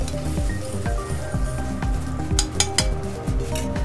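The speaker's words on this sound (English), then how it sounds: "Swirl everything together." A pork stock reduction is swirled and stirred in a sizzling pan at a farm-to-table restaurant, with close metallic clinks and scrapes of utensils over a low bubbling sizzle, some brief sharper splashes near the end.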